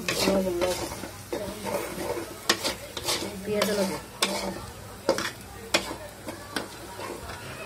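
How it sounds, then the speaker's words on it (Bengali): Turmeric and chili powder are stirred through a hot sizzling pan with repeated scraping strokes of a spoon, close and fairly loud, over a continuous frying hiss. "আর এখন ভালো করে এগুলোকে নাড়া দিয়ে মিক্স করে নেব"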